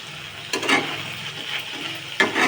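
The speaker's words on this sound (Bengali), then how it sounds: "মশলাটা ভালো করে কষিয়ে নেব।" A masala of garlic and ginger paste sizzles in hot oil in a pan while a spoon scrapes and stirs it in two brief, louder bursts over a constant low fry.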